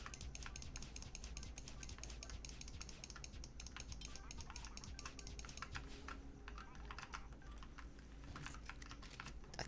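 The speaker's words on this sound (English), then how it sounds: "Oh, I'm still typing in chat." Fast, steady typing on a computer keyboard while someone writes in a game chat, the key clicks continuous and close for the whole stretch with no talking.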